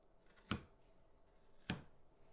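Two crisp snips of scissors cutting the ends of macrame cord on a Christmas tree ornament, close and distinct, about a second apart with quiet room tone between.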